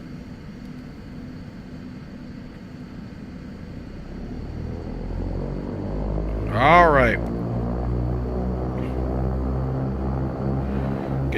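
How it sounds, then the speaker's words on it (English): Twin turboprop engines of a Beechcraft King Air 350 in X-Plane 12 spool up into a steady, swelling drone with a brief louder whine mid-way, while a voice speaks a short phrase over it. "You can hear those engines come up."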